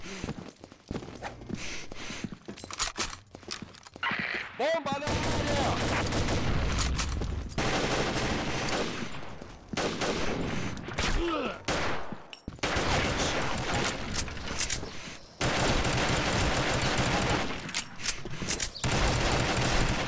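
Bursts of rapid gunfire crackle through a busy Combat Arms game soundscape, with loud volleys separated by brief lulls and occasional voice chatter.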